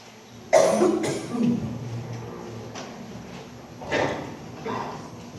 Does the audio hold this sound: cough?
yes